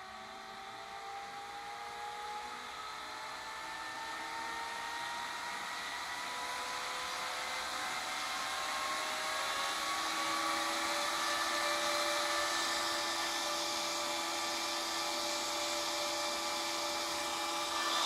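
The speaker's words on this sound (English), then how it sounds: "I have both of these in series, so when I plug it in, it starts slowly ramping up." Two Delta TFA0948AE cooling fans wired in series spin up slowly from standstill, a steady whirring whine rising gradually in pitch and loudness over many seconds, close and alone with no talk.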